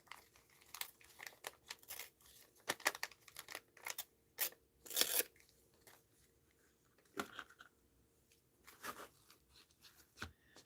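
Scissors snip through paper tape on a desk of scrap calendar art-journal materials, with several sharp crisp cuts and paper crinkling in quick irregular bursts, close and fairly quiet.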